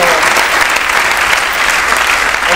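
Audience applause at a talk about the Italian film Compagni di Scuola, dense and loud continuous clapping from a crowd, sustained evenly through the short stretch.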